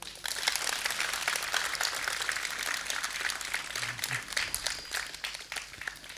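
Schoolchildren at a Sainik school gathering clap together in steady applause, a dense, moderately distant patter of many hands that continues for several seconds with faint voices mixed in.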